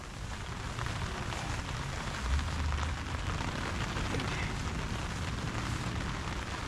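Pouring rain falls steadily on a hammock camp in the woods, a dense, even hiss of drops that holds at the same level throughout, with no voices.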